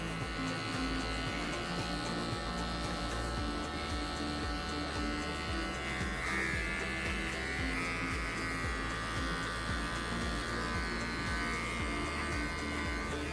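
An electric hair clipper buzzes steadily and close up while cutting a fade at a barbershop, its constant motor drone shifting slightly in pitch as it passes over the hair, with no talking.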